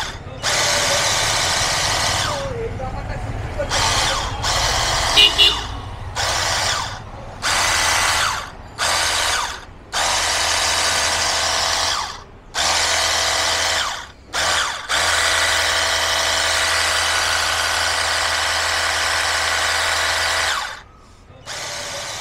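A cordless car pressure washer motor whines loudly in long sustained bursts, stopping and restarting several times with brief silent gaps between runs.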